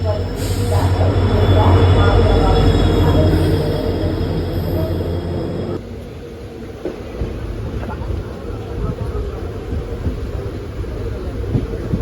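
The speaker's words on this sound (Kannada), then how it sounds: "ಸೊ ಗೈಸ್, ಕೊನೆಗೂ ಟ್ರೈನ್ ಬಂತು ನೋಡಿ" A train rumbles into Tiptur station with heavy low-end roar and rattling wagons, steady and close, easing off into a quieter rolling clatter.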